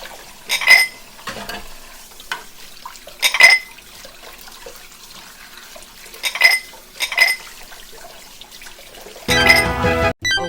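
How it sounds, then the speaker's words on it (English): Intermittent clinks and splashes of dishes being washed under running hot water, in short bursts with pauses, ending in a louder rush of water. "Washing dishes with hot water."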